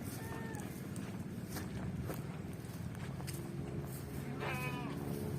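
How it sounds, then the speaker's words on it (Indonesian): Goats bleating on a farm amid fruit trees, a few short quavering calls at moderate distance over a busy rustling background, with faint sounds of people moving about. "Kambing juga ada."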